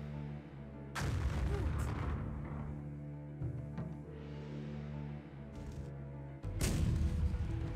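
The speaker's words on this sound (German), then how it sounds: "Aber diese Kanone macht sowieso gerade unser Turm kaputt." Cannon fire battering a tower in Empire Earth's Napoleonic campaign: several heavy booming blasts, the loudest at the start and near the end, with smaller thuds between, over a steady droning battle and music bed.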